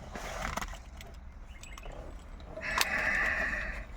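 Keys for a Mercedes W124 E420 jangle and clink in a few light metallic bursts, close by, with a faint steady tone rising near the end.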